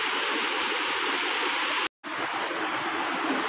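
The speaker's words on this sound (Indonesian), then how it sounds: "di balik derasnya air terjun" Steady, loud rush of a waterfall fills the clip, a dense continuous roar broken by a split-second dropout near the middle.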